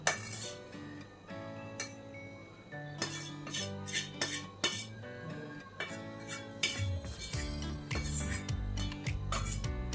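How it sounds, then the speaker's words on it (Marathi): A spoon works grated fresh coconut cooked with jaggery into a bowl for coconut ladoo, giving repeated metallic clinks and scrapes against the bowl, close and fairly busy, with no voices. "आपण आता हे गुळामध्ये जे खोबरं मिक्स केलेलं आहे ते आता यामध्ये घालूया"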